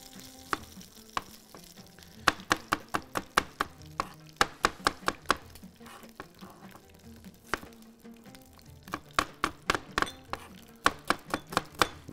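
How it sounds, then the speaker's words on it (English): A knife slicing onion on a cutting board in quick bursts of rapid, crisp taps, with pauses between runs, over a faint background sizzle of hot oil. "I'm going to slice the onion"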